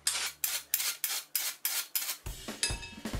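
Orange zest being grated for tiramisu: a steady series of rhythmic rasping strokes, close and crisp, about eight regular scrapes followed by quicker, heavier scraping against the grater.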